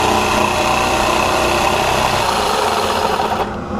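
A Makita DJV180Z cordless jigsaw cuts through wood with a steady, buzzing motor whine and blade rasp. It runs loud and continuous for over three seconds, then begins to wind down at the end.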